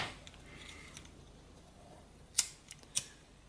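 Scissors snip an elastic shoelace to length, giving two distinct sharp cuts close by with a faint click between them over a quiet background.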